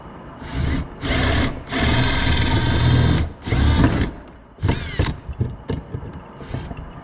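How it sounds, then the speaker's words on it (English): A power drill whirs in several bursts of varying length while drilling parts for an RV-14 experimental aircraft, close and loud, with brief pauses and clicking between runs. "Drill the next one."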